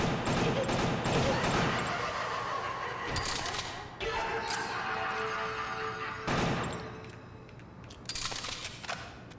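Dual pistols firing in a video game, a dense burst of shots continuing loudly with brief gaps and a few sharp bursts near the end, with voices chuckling in the background.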